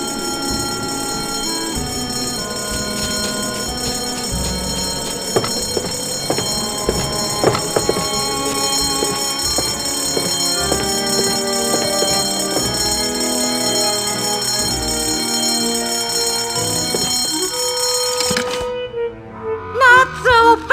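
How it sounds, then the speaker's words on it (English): A school fire alarm bell rings steadily and loudly for most of the stretch amid a dense, continuous clatter, cutting off abruptly near the end. "In case of fire, pull alarm."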